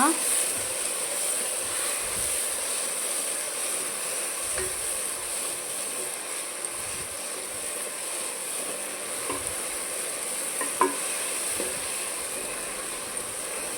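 Sorrel leaves are stirred into a tomato curry in a pan, giving a steady, fairly even sizzle and hiss with only faint stirring, and no clear talk.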